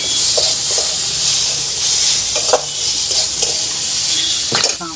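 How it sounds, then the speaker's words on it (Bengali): Chopped tomato sizzling in a hot pan while a tamarind bata fish curry cooks: a steady, fairly loud hiss with a few soft stirring clicks scattered through it. "তারপরে দিয়ে দিচ্ছি টমেটো কুচি"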